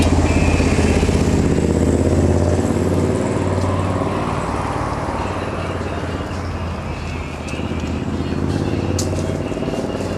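A light moped engine runs continuously nearby, a buzzing, revving drone with steady loudness that dips slightly midway, with no talk over it.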